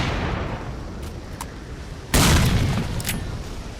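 A single loud grenade blast in S.T.A.L.K.E.R. Clear Sky hits suddenly midway, then its rumble slowly fades, after a few distant shots and clicks in the background.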